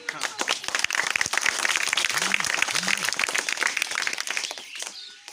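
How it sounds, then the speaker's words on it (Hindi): An audience claps steadily through a religious gathering in Araria, Bihar, honoring a sister and brother; dense, continuous applause fills the room, fading slightly at the end, with a voice speaking faintly underneath. "खुशबू बहन और भाई जी के लिए तो बजा ताली"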